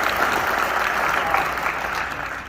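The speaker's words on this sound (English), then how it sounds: "let's give Shelby and the Chamber of Commerce a round of applause" Audience at a Gaines County candidate forum applauding Shelby and the Chamber of Commerce, a dense, even patter of many hands clapping at fair distance, tapering slightly at the end.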